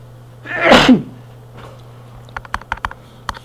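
A single loud sneeze close by during a math lesson, followed by a faint bit of background noise and several sharp clicks like typing on a computer keyboard.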